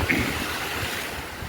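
Sea water washes against a rocky shore near Vijaydurg fort as a steady, close, broad rushing wash, with no voices.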